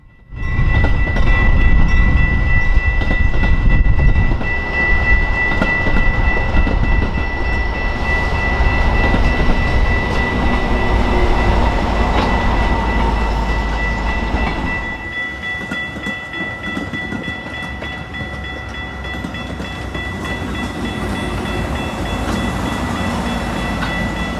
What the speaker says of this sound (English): Here we have a pair of former Amtrak F59 PHIs shoving an inbound.